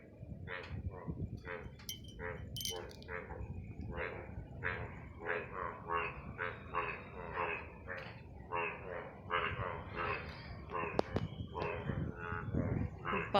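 A dense chorus of frogs croaking in rainwater at night, many overlapping pulsing calls repeating steadily and fairly close, with no pauses.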